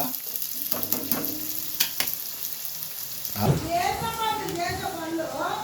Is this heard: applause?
no